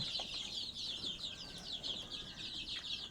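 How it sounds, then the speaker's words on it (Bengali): Sonali chicken chicks on a poultry farm cheep in a dense, continuous chorus of high, overlapping chirps, steady and fairly close throughout. "মুরগির বাচ্চা সেগুলো অনেকটা বড় হয়ে গিয়েছে দেখতে পাচ্ছ তোমরা"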